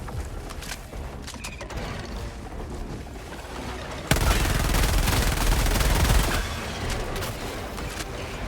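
Rapid bursts of MP 98 Knight submachine-gun fire in Helldivers 2, a dense automatic rattle that swells to a loud, sustained volley midway before easing back into steady shooting.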